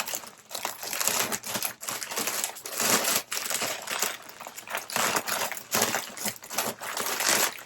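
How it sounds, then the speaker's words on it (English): A sold fabric item is pushed into a padded envelope with close, repeated crinkling and crumpling of the padded mailer, alternating between loud bursts and brief pauses. "I think I can fit it in this padded envelope"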